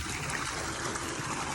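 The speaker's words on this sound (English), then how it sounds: "see that water? It's coming straight out of the side of that big old hill behind me" Spring water trickles steadily out of the side of a large hill at Wyrick Springs, a continuous close, bright dribbling wash with no talk over it.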